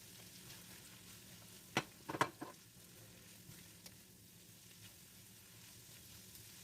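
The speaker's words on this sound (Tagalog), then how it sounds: "Ilagay ang onion at igisa hanggang lumambot." Onion sautéing in a pan, a faint steady sizzle with a short burst of stirring clatter, then a quieter fry, no voices.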